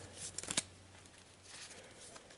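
Playing cards from a Marvel Legendary tabletop game deck are handled close up, with a quick faint burst of riffling and flicking followed by softer, sparse card rustles.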